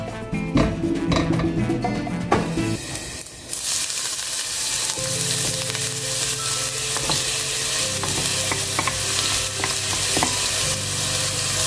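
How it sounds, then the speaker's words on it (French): Onions and garlic sautéing in a little oil in a pan, a steady loud sizzle with stirring and scraping throughout, occasional utensil knocks against the pan, no voices. "je fais revenir des oignons dans un peu d'huile, de l'ail"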